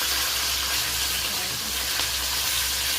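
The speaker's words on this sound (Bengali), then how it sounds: "এবার আমি মাছগুলো ভালো করে ভেজে নেব" Pieces of fresh pond-raised katla fish, starting with the head, sizzle in hot oil on a home stove, giving a steady loud hiss with small crackles throughout and no talk.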